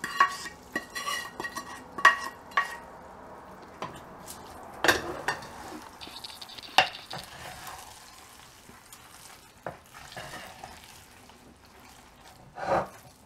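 A spoon stirs fried cashews and black pepper into ven pongal in a pressure cooker, giving scattered scrapes and clinks of metal against the pot, with faint sizzling between the quiet, uneven strokes.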